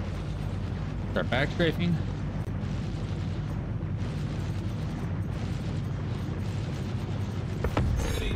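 Ship cannons fire from a Constellation in Star Citizen, a steady rumbling barrage of booms and bursts running throughout with a few sharper blasts, while people talk over it.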